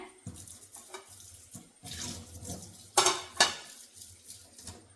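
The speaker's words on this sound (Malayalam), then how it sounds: "പ്ലേറ്റ് ഒന്ന് കഴുകട്ടെ" Running tap water splashes in a sink while a plate is washed, with clinks of dishes and bursts of louder gushing, close and with no talk.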